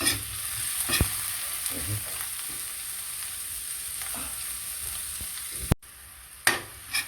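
Onion, garlic and tomato sauté in a pan for chicken binagoongan, a steady close sizzle with a few clinks of a utensil against the pan and a sharp knock near the end.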